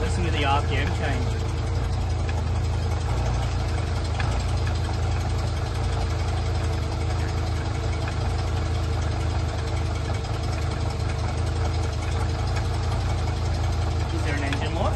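A Toyota Tarago van engine with an SC14 supercharger idles with a steady rumble and a whining belt tone, its pitch shifting slightly as the revs change, close and continuous.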